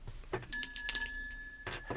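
A bright bell rings with sustained metallic tones that ring on and fade, preceded and followed by short soft sounds, loud and close.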